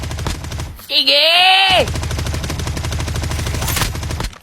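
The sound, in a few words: gunfire in a video game shooting match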